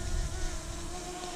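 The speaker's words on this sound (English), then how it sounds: "The drone's just going overhead. You might just be able to just hear it buzz." A camera drone flies overhead along a ridge line on the Berkshire Downs, giving a steady, sustained mechanical buzz with a constant whine, moderately loud and unbroken, with no talking.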